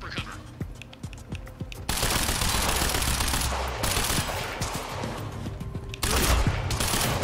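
Gunfire in the video game Quantum Break: dense, sustained automatic bursts forming a loud fusillade that swells and continues nearly unbroken, preceded by a few separate shots.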